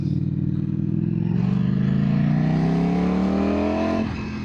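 A Ducati Streetfighter V4S motorcycle rides in fourth gear at around 2,000 RPM, its engine note steady and close, pitch rising gradually for about four seconds, then dipping slightly as the throttle eases.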